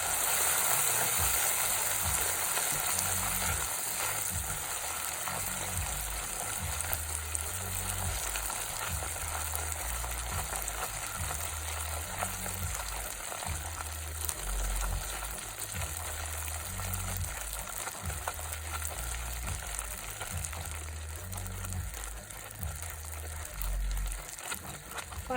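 Butter is stirred into hot caramel sauce in a pan over low heat, giving a constant bubbling sizzle with a low rhythmic scraping thump of the spoon throughout, no talking.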